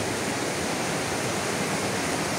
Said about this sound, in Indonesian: Suasana di air terjun Jumok, Karanganyar, Jawa Tengah